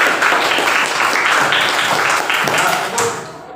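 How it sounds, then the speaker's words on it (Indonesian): Students in a classroom break into applause, a dense burst of many hands clapping close by for a few seconds before tapering off, mixed with some voices. "Tepuk tangan dulu untuk kita."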